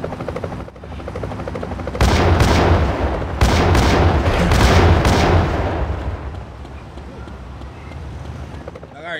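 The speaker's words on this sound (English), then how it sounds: "I got a policy about boss fights where you fight helicopters for the final boss" A helicopter in the final boss fight of GTA Chinatown Wars thumps with a steady rotor drone, overlaid by loud bursts of gunfire and booming explosions in the middle.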